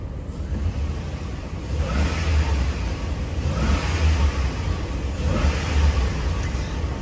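A Magnuson supercharger on a GM Silverado truck's 4.8/5.3/6.0L V8 whines faintly over a steady engine rumble, rising and falling in a few slow surges of revving, close and continuous with no talking.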